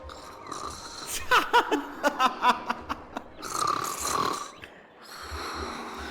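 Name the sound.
character snoring in video game Honkai: Star Rail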